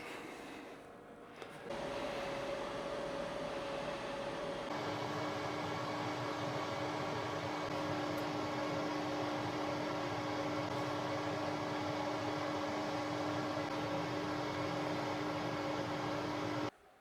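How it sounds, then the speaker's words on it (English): An air fryer preheating at 180 degrees gives a steady fan whir and broadband rush that switches on abruptly, runs evenly with a faint tonal hum, then cuts off at the end. "Once our air fryer is preheated, we're going to pop it in."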